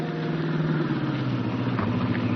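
A car engine hums and revs, its pitch dropping as it shifts down a gear, steady and fairly close, with no talking.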